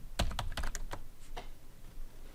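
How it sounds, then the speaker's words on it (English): Computer keyboard typing while configuring a framework in Oxygen XML Editor 13.2: a quick cluster of close key clicks, then a few sparser taps, with no voices. "I'm typing that in here"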